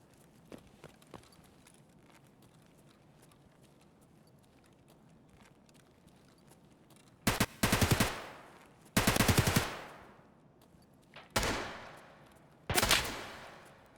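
Gunfire in Escape from Tarkov: four loud, sharp bursts of shots, each with a ringing tail, arrive in the second half after a quiet stretch of faint movement and footsteps.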